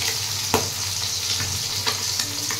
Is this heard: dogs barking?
no